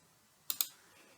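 A computer mouse gives two sharp, close clicks in quick succession about a tenth of a second apart, each decaying quickly against near silence.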